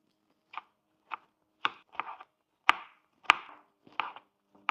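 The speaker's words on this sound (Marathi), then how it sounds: "आपण आता टमाटे बारीक कट करून घेऊ।" A knife finely chopping tomatoes on a cutting board for a dhaba-style paneer masala, producing about nine sharp, separate chops at an uneven, unhurried pace, close and clear with no talking.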